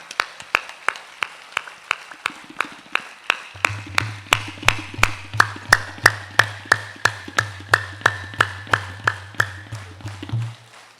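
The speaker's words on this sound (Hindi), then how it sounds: "ताली बजाएं, आनंद मनाएं।" Rhythmic clapping in even, regular beats, sharp and close, continuing for about ten seconds while a low sustained drone joins partway through.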